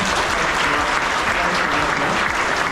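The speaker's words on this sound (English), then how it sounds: "So if you just join me in giving him a big round of applause." Dense, continuous applause from a large staff audience of about 300 for a speaker, close and loud with no pauses.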